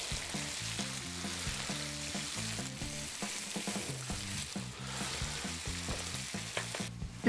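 Shrimp frying in a pan with continuous crackling sizzle, punctuated by stirring scrapes and clatter against the pan, close and steady with no talk.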